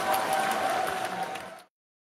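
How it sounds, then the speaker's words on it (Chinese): Short burst of audience applause and light cheering thanking actor Tony Leung at a live phone launch event, steady crowd clapping that cuts off abruptly after under two seconds. "我们掌声感谢梁朝伟先生啊"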